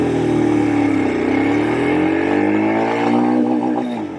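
Royal Enfield Scram 411 single-cylinder motorcycle pulling away hard from a standstill, its engine note rising steadily and loudly through the gears, close-up and alone with no talk.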